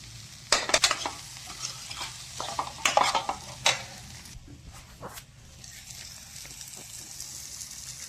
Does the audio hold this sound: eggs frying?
yes